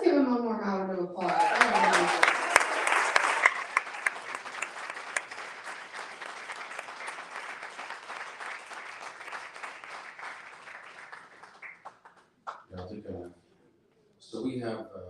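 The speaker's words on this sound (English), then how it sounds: "Let's give him one more round of applause." A poetry-reading audience gives a long round of applause that swells after a spoken introduction and holds steady for about ten seconds before fading, with speech resuming at the end.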